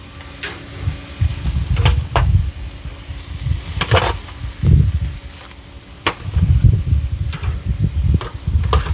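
Chicken thighs sizzle on a direct heat smoker pit, a steady close crackle and hiss with intermittent sharp pops and low rumbling, no talking.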